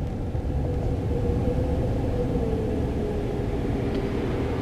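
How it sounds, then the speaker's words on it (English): Car tires rolling through water on a wet road give a steady, loud, low rumble with a soft hiss, heard continuously from inside the moving car with no talking. "I'm just hearing like some weird sound coming from my car, but then I realize it's the tires with the water and the stuff."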